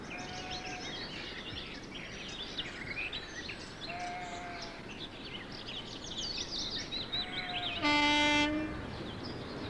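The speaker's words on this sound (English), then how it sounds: "the familiar cry of the lesser-spotted DMU" A British Rail diesel multiple unit rumbles along the track with a steady engine and wheel roar, sounding a brief two-tone horn blast near the end, with faint bird calls in the background.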